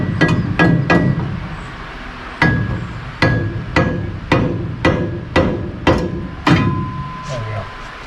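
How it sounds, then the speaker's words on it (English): Sharp, loud hammer blows strike a steel transmission cross member on a C-10 pickup during a 4L80E swap, about a dozen metallic hits in uneven clusters, each ringing briefly before the next. "I gotta kind of angle it and then hit it with a hammer and angle it some more."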